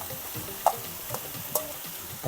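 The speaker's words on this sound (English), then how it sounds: "So we're going to add in the broccoli, the onions," Broccoli and onions stir-frying in a pan for a plant-based bitter melon dish, a faint sizzle punctuated by a few light spatula scrapes and taps.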